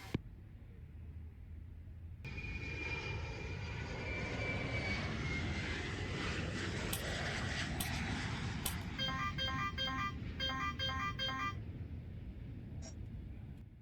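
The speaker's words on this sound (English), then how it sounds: "APU is on" Auxiliary power unit of an MD-11 airliner running in Microsoft Flight Simulator 2020: a steady, broad engine roar that starts abruptly and holds, with a whining tone early on and clicky cockpit beeps later.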